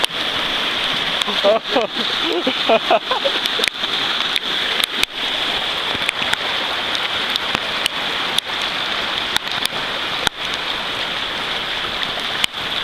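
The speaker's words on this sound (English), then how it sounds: "It's raining a little bit." Steady rain hisses on a surface nearby in Montalegre, with scattered sharp drips and taps standing out through the constant patter.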